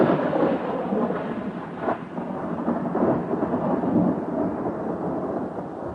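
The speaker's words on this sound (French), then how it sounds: "Le tonnerre grondait, les éclairs illuminaient le ciel" A heavy thunderstorm, with deep rolling thunder rumbling continuously over steady rain, loud and close throughout, with no voices.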